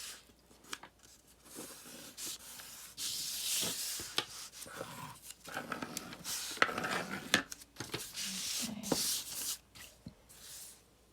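Paper being folded and creased by hand to make a pocket, giving close, dry rustles, crinkles and sharp scraping creases in irregular bursts, with brief pauses between strokes.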